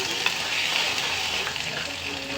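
Lentils for a puri curry fry in a hot pan with a steady, dense sizzle and faint stirring scrapes, close and loud throughout, with no voices.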